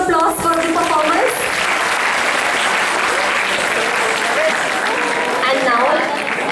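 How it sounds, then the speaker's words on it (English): Applause rings out for performers at a school-hosted international children's film festival, a sustained crowd clapping under a speaker's amplified voice that talks across much of it. "Can we have one more round of applause for the performers?"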